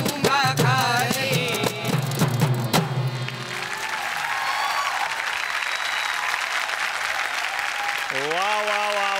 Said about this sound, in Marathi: जोरदार टाळ्या झाल्या पाहिजे त्या सगळ्या कलाकारांसाठी